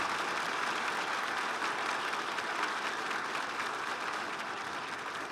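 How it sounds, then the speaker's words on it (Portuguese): A church congregation claps for a ministry group, a dense and steady wash of many hands that holds evenly and fades only slightly at the end. No voices are heard. "Poderíamos dar mais uma salva de palmas para esse grupo"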